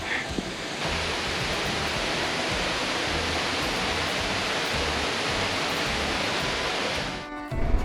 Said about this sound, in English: Really neat waterfall.